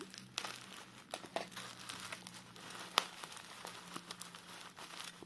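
Parcel packed in white napkins and tape being unwrapped, with steady close crinkling and rustling of paper and tape and a few sharper tearing crackles.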